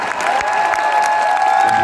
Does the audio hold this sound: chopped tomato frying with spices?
no